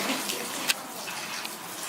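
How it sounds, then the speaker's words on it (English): Water pours into tea cups during a Chinese tea tasting, a soft steady trickle and splash running throughout at moderate level, with no talk. "Our ladies will add more water for us."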